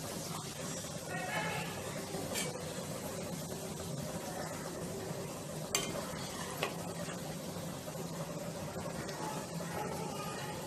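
Marinated prawns frying in hot oil in a home kitchen for biryani, giving a soft, steady sizzle with occasional scraping and stirring clicks, fairly quiet and continuous, with no voices.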